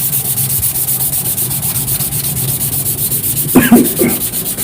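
Fast, steady back-and-forth strokes of 320-grit wet-dry sandpaper on a lubricated metal saw-blade knife rasp close by, an even scrubbing rhythm, with a couple of brief louder scrapes near the end.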